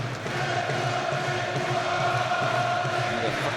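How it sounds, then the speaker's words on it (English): Boxing crowd at a Ricky Hatton fight roaring and cheering to lift the fighter, a dense sustained arena roar under commentary. "Crowd trying to lift him again here."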